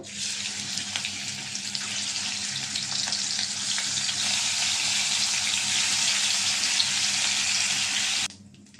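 Turmeric-coated potatoes fry in a pan with a loud, steady sizzle that runs unbroken for about eight seconds and then cuts off abruptly.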